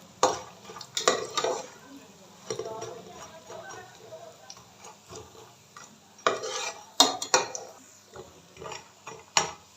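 Fox nuts (makhana) are being dry-roasted in a pan, with a spoon stirring and scraping in irregular bursts of rattling clatter and light ticks from the nuts shifting against the metal.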